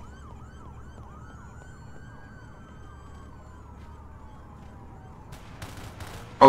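Police car siren in a roleplay video game, a steady wailing sweep repeating under light engine and traffic background, with a few sharp bursts near the end.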